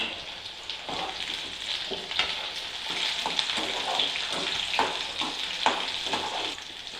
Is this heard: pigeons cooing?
no